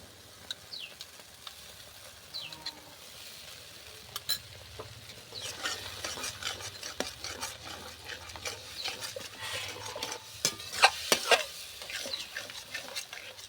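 Sour yogurt is stirred into eggplant frying in a pan for begun radharani, a soft sizzle under repeated scraping stir strokes that grow busier and sharper over time, close and fairly quiet.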